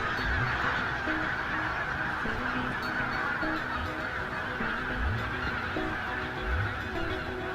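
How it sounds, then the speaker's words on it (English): Young geese honk repeatedly at a distance over a steady outdoor background on a Siberian riverbank, their calls coming in loose, irregular bursts. "Young geese spend much time foraging, gathering young plants on riverbanks."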